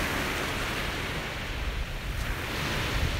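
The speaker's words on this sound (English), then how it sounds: "Oh, here comes the wind." Wind blows on a beach, a steady broad roar with faint surf-like washing and no voices.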